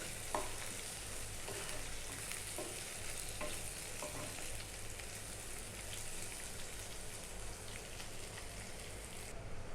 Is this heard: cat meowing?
no